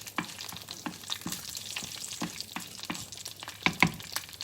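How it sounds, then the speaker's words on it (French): Finely chopped shallots fry in a pan with a crackling, popping sizzle, dense irregular spits throughout and a couple of louder clanks near the end, with no talking. "On met les échalotes là que vous avez coupées menu."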